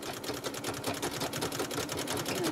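A treadle sewing machine, pedaled by foot, sews in a steady fast chatter of needle strokes with a faint rhythmic thump underneath, close and alone with no talking.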